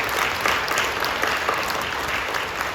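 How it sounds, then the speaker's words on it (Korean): A church congregation claps steadily in a sustained round of applause, a dense patter of many hands filling the room at moderate loudness with no talk over it. "격려하며 박수해 주시죠."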